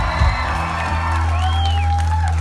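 A live concert crowd in Dublin cheers and whoops for the support band, loud shouts rising over sustained stage hum and ringing amplifier tones.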